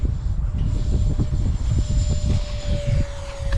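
A Freewing PJ50T RC model private jet takes off, its engine giving a loud, steady roar with a thin whine that slowly rises in pitch, heard close and alone.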